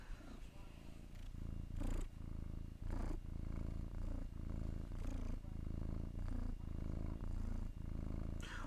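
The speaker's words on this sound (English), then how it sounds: "They can hear Dusty purring." A house cat purrs loudly and very close, a deep rumbling drone that rises and falls with each breath roughly once a second, while people talk softly over it.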